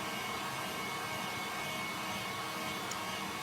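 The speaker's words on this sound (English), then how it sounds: "I keep my heat gun moving round" Heat gun warming WoodUbend moulding, a steady broadband blowing whoosh at moderate level with no breaks, no voices.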